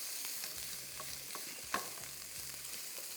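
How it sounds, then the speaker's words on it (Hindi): Garlic and ginger fry on high heat, a soft steady sizzle with faint stirring taps and one brief sharp clink, quiet and close with no voices. "लहसुन, थोड़ा सा अदरक और इन दोनों को करना है फ्राई"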